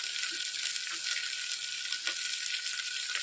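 Gujarati masala spices of green chillies, red chilli powder, turmeric, asafoetida, garam masala and coriander-cumin roasting in hot oil, a steady close sizzle and crackle throughout with faint stirring scrapes.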